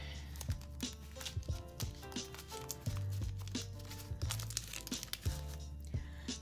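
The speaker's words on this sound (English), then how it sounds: "The thing nice about masking tape, it's so easy to rip up." Strips of masking tape are torn and crinkled by hand in a quiet room, with repeated short ripping bursts at close range and no talking.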